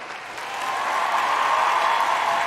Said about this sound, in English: Let's get that round of applause, yo.